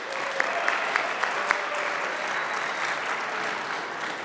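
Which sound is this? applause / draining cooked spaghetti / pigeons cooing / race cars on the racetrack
applause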